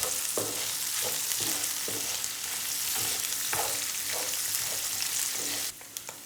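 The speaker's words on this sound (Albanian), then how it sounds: "shtojmë komplet orizin, që edhe orizin ta skuqim pak." Cooked rice being stir-fried in a pan for an octopus dish, a steady sizzle with regular scraping stirs of the utensil roughly every half second, close and unaccompanied by voices.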